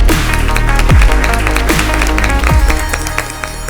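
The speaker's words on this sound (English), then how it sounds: "Let's give her a big round of applause." Loud, steady applause fills a spelling bee studio for a contestant, with dense clapping and music-like tones running underneath.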